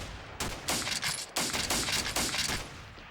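Units in the Steel Panthers wargame fire in repeated rattling gunfire bursts, a crackling fusillade with short gaps, fairly loud and sustained.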